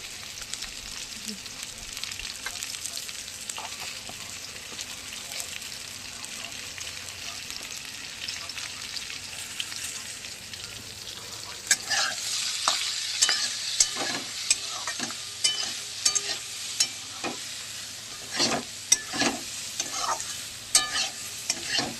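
Fish pieces coated with turmeric fry in hot oil in a pan, a soft continuous sizzle that grows louder and more crackly midway, with scattered pops and stirring scrapes throughout.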